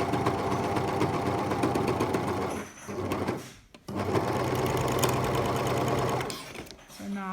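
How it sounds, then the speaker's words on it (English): An overlocker sews off the edge of the fabric with a loud, fast, continuous mechanical hum that pauses briefly about halfway through and then resumes. "And then I'm going to sew off till the end."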